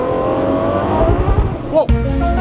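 Aston Martin V12 Vantage, a V12 rear-wheel-drive car, accelerating hard with a loud, rising engine roar up close, a brief sharp surge near the end, then a steady drone continuing.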